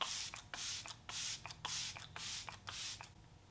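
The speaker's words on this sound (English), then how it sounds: "we're going to set it with our e.l.f. Dewy Coconut Setting Spray," e.l.f. Dewy Coconut Setting Spray misted onto a face over cream makeup, six or seven short, close hissing bursts in an even rhythm with brief pauses between.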